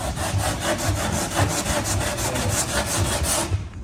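Steady rhythmic rasping of sandpaper on wood, back-and-forth strokes repeating at an even pace, close up with no talking.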